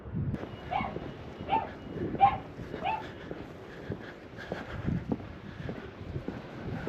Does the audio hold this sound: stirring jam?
no